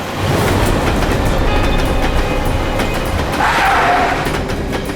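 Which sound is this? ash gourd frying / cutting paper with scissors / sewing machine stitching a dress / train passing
train passing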